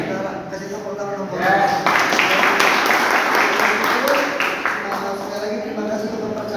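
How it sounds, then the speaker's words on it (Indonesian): Church congregation in an Indonesian service clapping together, a dense burst of applause swelling after a moment of speech and holding steady, with voices audible over and around it. "Saudara, kasih tepuk tangan dong."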